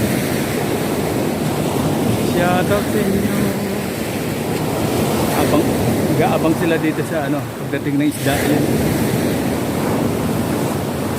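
Sea waves crash and wash steadily on the shore at Gloria, Mindoro, a loud continuous roar of surf with wind buffeting the microphone, while someone talks excitedly over it.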